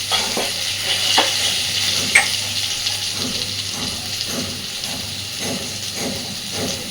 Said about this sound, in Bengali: আলুগুলো বেশ সুন্দর ভাজা হয়ে এসেছে।